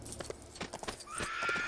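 Horse in the Lego Lord of the Rings video game, a quick run of clip-clopping hooves followed by a rising whinny, fairly close and on its own.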